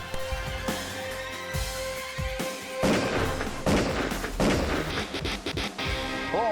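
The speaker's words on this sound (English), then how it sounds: "She's shooting." Sharp gunshots ring out in a reenacted armed robbery during a carjacking, several irregular cracks and thuds mixed with clatter and scuffling, moderately loud against a faint hum.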